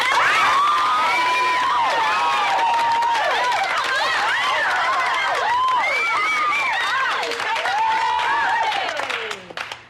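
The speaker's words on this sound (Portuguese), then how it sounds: "essa salva de palmas agora é pra você que tá assistindo esse vídeo" A crowd applauds, cheers and shouts at length, loud and dense throughout, fading out near the end.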